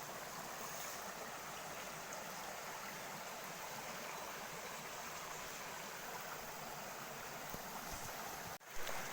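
A clear river rushes steadily over large rocks, a continuous broadband wash of flowing water heard close up, alone and without voices, with a brief knock near the end.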